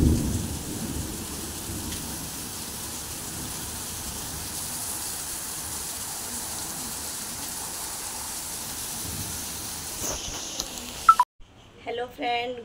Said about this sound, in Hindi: आज इतनी बारिश हुई कि क्या बताऊँ